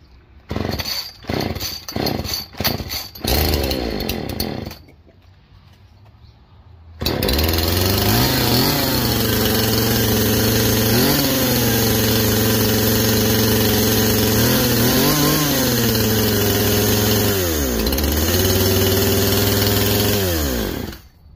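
A Poulan Pro 255 chainsaw gets several quick recoil pull-start yanks, falls briefly silent, then fires up and runs loud and close, idling with repeated revs rising and falling until it cuts off.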